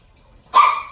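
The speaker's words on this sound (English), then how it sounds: "That's my dog." A pet dog lets out a single loud, close bark after a moment of quiet, the bark ringing out and fading over a fraction of a second.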